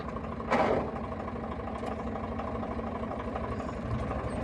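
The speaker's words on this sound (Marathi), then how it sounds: "पुढे थोडा ट्रॅक्टर पुढे दे का ट्रॅक्टर" A tractor engine runs at a low, steady idle-like rumble as the tractor edges forward, heard from nearby with a brief louder burst early on.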